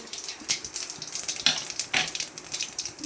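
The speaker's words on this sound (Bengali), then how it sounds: "জিরেটা চটর পটর করে নিয়েছে" Cumin seeds crackling in hot oil in a pan, a soft steady sizzle with scattered sharp pops, fairly quiet and close, no voices.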